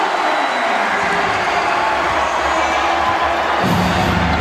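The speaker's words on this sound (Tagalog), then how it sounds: "The crowd is loving it" Basketball crowd at an MPBL game, Bacoor versus Bataan, cheering after a layup: a steady, dense roar of many voices filling the arena, loud and unbroken, swelling slightly near the end.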